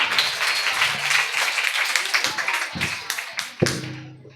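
An audience claps together to welcome a character onto the stage at a Bible skit, with dense applause throughout, scattered louder claps and some voices beneath.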